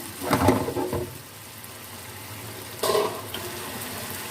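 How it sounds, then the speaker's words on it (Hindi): Chicken sizzles in a pan with tomatoes and green chillies for a chicken biryani, with short bursts of frying and stirring separated by a quieter stretch of steady hiss. "तो हम तकरीबन 5 से 6 मिनट के लिए भून लेते हैं अच्छी तरह से।"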